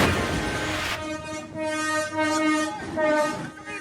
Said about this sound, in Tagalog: Dinig sa video ang pagbusina ng paparating na tren ng Philippine National Railway sa Barangay Bukal sa Calamba, Laguna